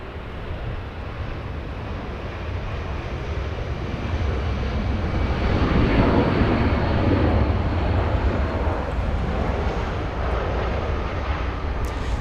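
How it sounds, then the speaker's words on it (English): A Delta Air Lines Boeing 767-300, delivered in 1995 and arriving from Atlanta at Los Angeles International Airport, produces a broad, steady jet rumble that swells and holds at moderate distance, with no voices. "Delta Airlines 515 flying in from Atlanta, Georgia, 767-300"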